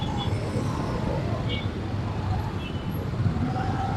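Traffic jam street noise in Makassar, a dense continuous rumble of idling and creeping cars and motorbikes close by, with no clear speech.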